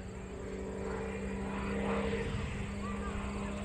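An aerobatic propeller airplane performs at a New York air show, a steady, moderately distant engine drone that swells slightly mid-pass, heard under a commentator's voice.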